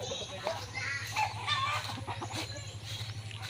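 Chickens clucking in short, scattered calls over a steady low hum, fairly close, as caught birds are handled.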